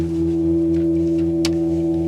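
Synthesizer notes triggered with a square alkaline battery, a loud sustained buzzing tone rich in stacked harmonics with a gritty, noisy distortion, changing subtly and marked by one sharp crackling burst midway.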